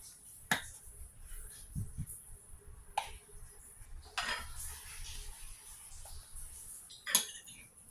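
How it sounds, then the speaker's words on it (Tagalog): Tokwa sisig being mixed with calamansi, soy sauce and mayonnaise: a few sharp metallic clinks of a utensil against a dish and soft stirring sounds, close and fairly quiet. "Haluin lang na mabuti."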